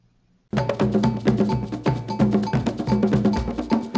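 Lively West African call-and-response music, percussion-driven with a bright cowbell-like clank and layered drums and voices, starting abruptly after a short near-silence and continuing in a steady groove.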